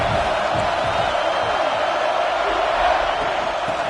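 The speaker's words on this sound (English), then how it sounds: "This crowd bringing the energy and noise early." Roaring stadium crowd at an Alabama versus South Carolina football game, a constant broad wash of noise with no breaks, loud and close throughout.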